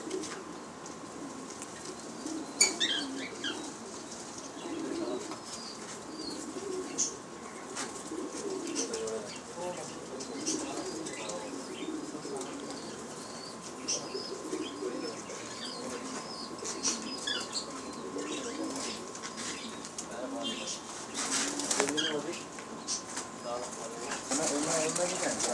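Pigeons being checked by hand coo softly and flap their wings in bursts, with scattered chirps and a steady faint hum behind, while people talk nearby throughout.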